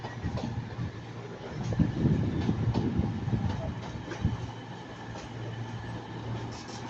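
Class 195 and Class 220 trains idle and move at Manchester Piccadilly station, a steady low diesel rumble with faint clacks and a mid-clip swell, heard up close.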